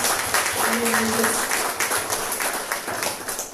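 A church congregation applauds during a worship service, a moderate stretch of mixed clapping with a brief voice rising over it.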